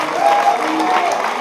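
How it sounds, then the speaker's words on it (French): A studio audience gives a brief burst of applause, a short dense patter of clapping. "On va l'applaudir."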